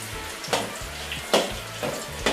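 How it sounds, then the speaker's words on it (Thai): Steady sizzle of chicken tendons deep-frying in hot oil, with a few sharper crackling bursts spaced through it; close and fairly loud, no voices. "เราเอ็นไก่ลงไปทอดเลยค่ะ"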